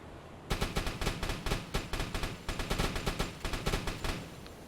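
Rapid bursts of gunfire from a U-boat's deck gun in the submarine game UBOAT, a loud, fast string of sharp shots.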